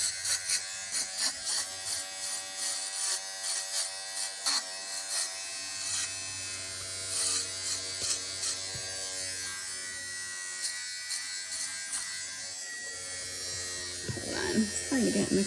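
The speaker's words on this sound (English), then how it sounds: "You hear that? I think my defuzzer's running out." A battery-powered fabric defuzzer buzzes steadily as it skims a Cabbage Patch Kid doll's yarn-loop hair, its hum wavering and sagging as the battery weakens, with brief scraping bursts and a voice talking near the end.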